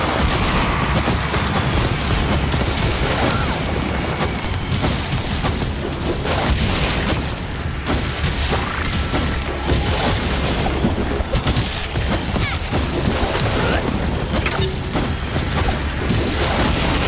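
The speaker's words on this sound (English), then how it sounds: "Ally bombardment. Enemy bombardment." Bombardment explosions in the video game Crash Team Rumble: loud, dense, continuous booms and blasts layered over busy game noise for the whole stretch, with no talk.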